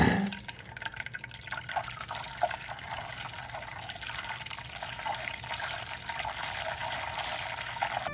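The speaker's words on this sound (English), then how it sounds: "After the butter gets nice and brown like this, we're gonna put some ice cubes into it to add back the moisture." Ice cubes drop into hot browned butter in a pan, setting off a loud, continuous crackling and sizzling hiss, dense with tiny pops, that stays steady and close throughout.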